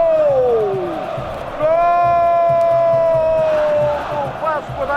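A football stadium crowd of Vasco da Gama supporters roars after a goal by Roberto Dinamite, a broad sustained swell of cheering under an excited commentator's drawn-out shout, rising again near the end.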